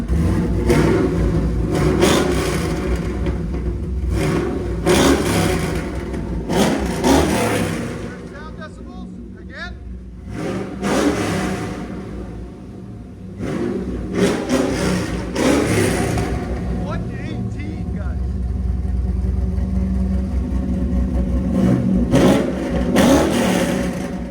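A cammed Chevy 6.0L V8 with headers and a Magnaflow exhaust revs in repeated loud, close bursts that rise and fall over a rumbling idle, with people talking between the pulls.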